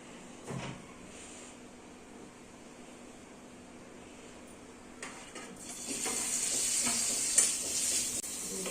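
Frying in oil for palak paneer: a low, quiet background hiss with a few knocks early on, then a brighter, louder sizzle that builds in the last few seconds, nearby, with no speech.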